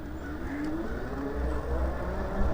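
A Snapcycle R1 electric bike climbs a hill on throttle alone at maximum payload, its motor whine and tire hum steady and close, with wind noise underneath throughout.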